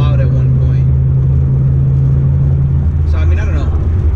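A 2016 Ford Mustang GT V8 exhaust gives a steady, deep low rumble throughout, loud and close as from inside the car, with someone talking over it.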